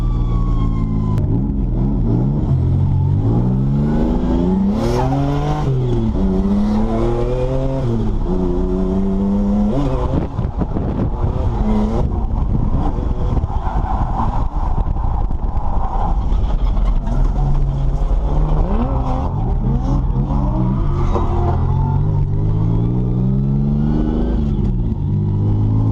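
A BMW E36 drift car with a turbocharged M50B30 engine screams and revs hard at a drift event, pitch sweeping up and down repeatedly with bouncing limiter-like bursts, loud and close.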